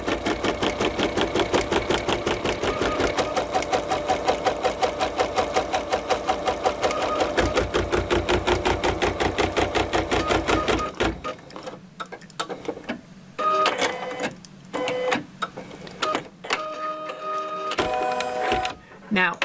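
An embroidery sewing machine stitches out basting on a DesignWorks cutwork coaster: a loud, fast, steady mechanical stitching rhythm for about eleven seconds, then broken, stop-start needle bursts and whirs.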